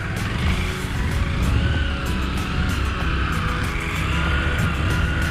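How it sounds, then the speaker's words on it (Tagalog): Motorcycle engine straining and revving steadily as its rear tire churns through deep sand on a desert-like sandbar of the Cagayan River, a loud continuous drone close by with no talk. "Hindi makatakbo yung motor."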